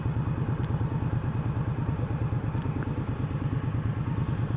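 A motorcycle on a test ride, not a Sportster, gives a steady, rhythmic, pulsing low engine thrum at moderate volume, with light clatter and faint wind noise over it.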